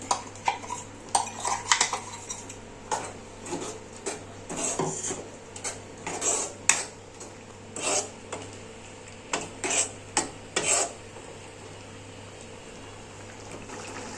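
Scattered clinks and scrapes of a utensil against a metal pan as ground paste is stirred into a pea kurma, irregular and close, over a low steady hum of a stove or cooking liquid.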